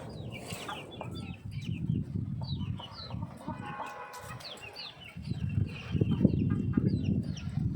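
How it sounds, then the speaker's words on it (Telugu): A large hen clucks softly while pecking at bottle gourd, with intermittent low clucks near by and faint chirps from other birds in the background; no talk. "చూడండి మా పెద్ద కోడి సొరకాయ తింది."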